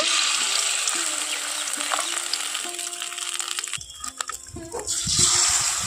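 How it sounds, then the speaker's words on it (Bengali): Beaten egg fries in mustard oil in a wok with a bright, steady sizzle. A few clinks and scraping stirs come through midway, then the sizzle swells again close up. There is no speech. "এইভাবে ডিমটা ভেজে নেব"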